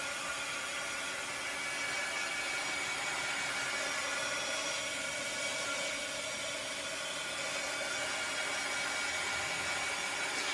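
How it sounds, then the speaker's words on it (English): A handheld dryer blows steadily over chalk paste on a stencil, giving a loud, even airy whoosh that runs unbroken for about ten seconds with no voices. "get the chalk paste dry."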